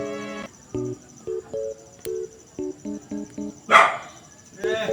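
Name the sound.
dog barking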